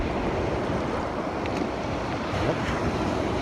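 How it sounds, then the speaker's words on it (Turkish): Rough sea waves roll toward a kayak, a steady loud wash of water and wind noise buffeting the microphone, close and continuous with no talking. "Bakın şimdi bir dalga geliyor."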